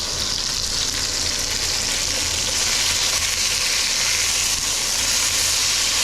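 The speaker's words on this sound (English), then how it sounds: "Brown that second side of the beef here" Beef browning in a pan for Cuban-Colombian shredded beef, with a loud, steady sizzle and frying crackle that holds close and constant throughout.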